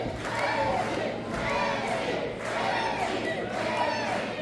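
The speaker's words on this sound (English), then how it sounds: "You can see this capacity crowd getting behind Reggie." A capacity crowd at a wrestling show roars and cheers for Reggie, a dense, sustained wall of voices swelling in waves, loud and continuous throughout.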